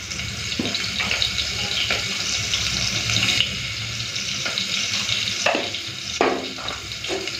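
Potatoes fry in hot mustard oil with turmeric and salt, giving a steady close sizzle. Occasional scrapes and clinks of stirring break through, and no one speaks.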